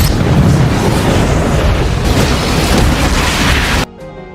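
Oil tanks on a ship explode in a massive roar, a continuous loud blast and rumble for several seconds, then drops suddenly to quieter background sound.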